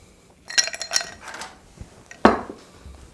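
Ice cubes drop into a tall cocktail glass for a 3 o'clock Fizz, two quick clinking bursts close by followed by a louder single clunk, with no talking.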